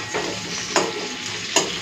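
Potatoes frying in hot oil give a steady close sizzle, punctuated by two distinct scraping clicks as the pieces are stirred or lifted from the pan.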